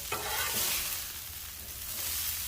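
Steak and asparagus sizzle steadily on a hot Blackstone griddle, a loud, dense frying hiss with scraping and stirring as the food is moved around.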